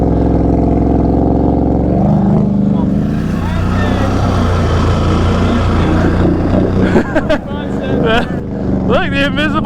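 A four-wheeler ATV engine runs loud and close with a steady low drone, rising and wavering as the revs change, with people talking and shouting over it toward the end.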